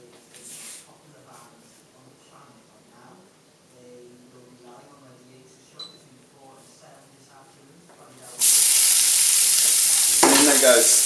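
Drained squid dropped into a little oil in a very hot pan, a sudden loud, harsh sizzle that bursts in near the end after quieter handling noises and talk.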